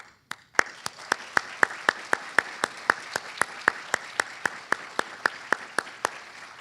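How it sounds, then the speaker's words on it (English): Audience at an induction ceremony applauding inductees, a steady run of even, sharp claps in a hall, fairly close and sustained for several seconds with no talking. "I'm sure that all those present will be pleased to add their applause to my own congratulations"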